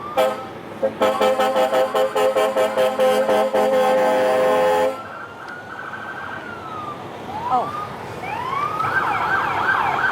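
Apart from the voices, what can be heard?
police car sirens at a parade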